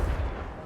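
A Confringo fire-blast spell goes off in Hogwarts Legacy as a single loud, booming explosive burst with a heavy low rumble that fades over a fraction of a second.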